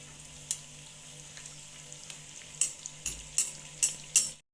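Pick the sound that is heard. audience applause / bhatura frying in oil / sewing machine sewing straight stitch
bhatura frying in oil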